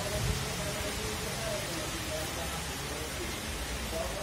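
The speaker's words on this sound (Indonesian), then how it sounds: "Oh, tadi ini langitnya cerah loh, tiba-tiba hujan." Steady hiss of rain falling close by, continuous and even throughout, with a faint low rumble underneath and no voices.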